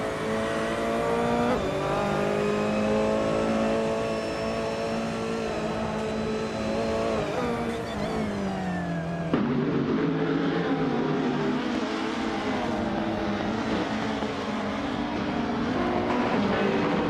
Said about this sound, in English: the race just kicked off at Automotorum Grobny. Batalan 656 is starting on pole, driving a sleek 2019 Lexus RCF GT3